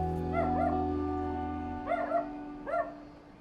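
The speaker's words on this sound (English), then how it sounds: "Almost every house you walk by has at least one dog, if not several." Dogs in the rural Vietnamese countryside give several short yipping, whining barks in small bursts over a low steady hum, moderately near.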